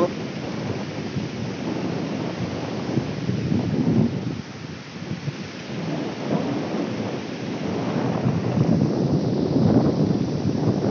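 Steady roar of sea waves and gusting wind on Kashaphal beach in rainy weather, loud and continuous with surging swells throughout.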